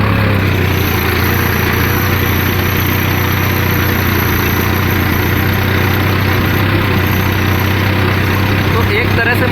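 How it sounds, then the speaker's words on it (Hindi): A tractor engine runs steadily while levelling a soybean field, a loud, constant droning rumble with no breaks and no clear speech over it. "आप ट्रैक्टर को थोड़ा धीरे कर सकते हैं ताकि सही लेवल हो जाए"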